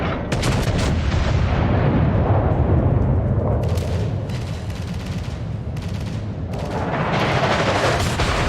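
Heavy naval gunfire from warships in World of Warships, with dense rolling booms and blasts overlapping continuously and loud throughout, swelling again toward the end.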